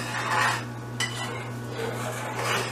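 A thickening wildberry dipping sauce stirred in a pot on the stove, with continuous close scraping and light metallic rubbing of utensil on pot, and no voices.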